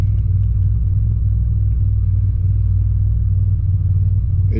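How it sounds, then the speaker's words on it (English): A warmed-up car engine idles at about 700–800 RPM, a steady, even low rumble that runs unbroken throughout with no talking. "the car's warmed up and the idle is, you know, where it should be at 700 RPMs, 800"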